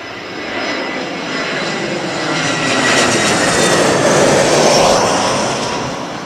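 A Swiss Airbus A320ceo lands at Heathrow and deploys its thrust reversers, making a loud, broad jet roar that builds and holds near the runway before easing slightly, with no talk.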